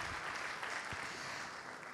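Applause from a conference audience welcoming panelists at a forum on financing small and medium businesses in Casablanca: a faint, distant, even wash of clapping that continues steadily throughout.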